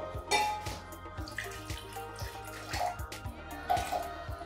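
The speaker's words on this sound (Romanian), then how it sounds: "O să pun aici în această cană 100 de ml de apă." Water poured into a cup, about 100 ml, for a homemade sugar-free vegan granola, with splashing and dripping close by and a few clinks of the vessel, no talking.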